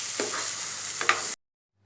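Egg masala gravy is stirred in a pan with the heat just switched off, a soft hiss with two brief scraping strokes before it cuts to silence.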